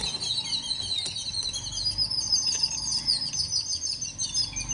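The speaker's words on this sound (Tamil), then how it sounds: "இங்கே பாருங்கள், குருவிகள் சத்தம் எப்படி கேட்குது பாருங்கம்மா." Sparrows near a tamarind tree chirp in quick, high, overlapping twitters, a busy chorus of small birds close by over a soft background hum.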